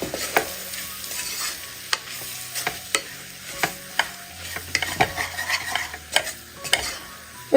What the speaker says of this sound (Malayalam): ഈ പൊടിയുടെ പച്ചമണം മാറി കിട്ടുന്നവരെ ഒന്ന് ഇളക്കി കൊടുക്കുക